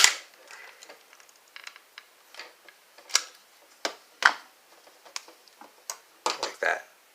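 Sharp clicks and clacks of a stapler fastening rubber bands onto folded fabric for a homemade face mask, a dozen or so irregular snaps close up, some in quick pairs, in a quiet room.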